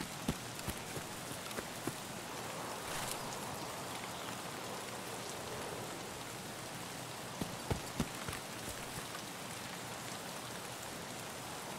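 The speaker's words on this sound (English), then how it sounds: "Thankfully, there's rain and fog." Rain falls in the video game Escape from Tarkov, on a foggy map. Steady patter and hiss continue throughout, with a few sharper drop impacts and faint footstep-like taps now and then.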